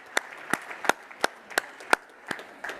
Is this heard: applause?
yes